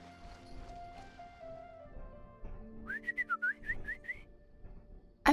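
A character whistles in the video game Genshin Impact: a short run of about six bright, quick rising whistled notes over quiet game ambience and soft music, ending in a sudden sharp clatter.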